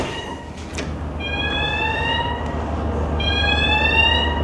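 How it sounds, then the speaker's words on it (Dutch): General alarm aboard an inland tanker ship: a steady electronic tone with rising pitch sweeps, repeating twice over a constant low engine hum, loud and close, with no talk. "En dan gaat eigenlijk in elke ruimte op het schip Algemeen alarm af."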